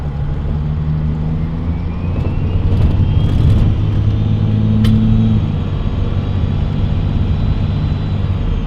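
Engine of a 12V Cummins diesel truck with a Stage 2 cylinder head, held at high RPM as a loud, steady drone with a low rumbling tone throughout, no speech.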